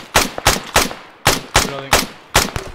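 Rapid machine gun fire in ARMA 3, loud and close, coming as about seven sharp bursts spaced roughly evenly, each with a quick decaying tail.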